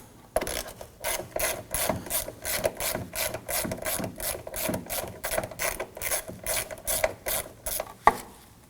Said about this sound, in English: Go ahead and grab that socket and a ratchet. Let's loosen and remove these.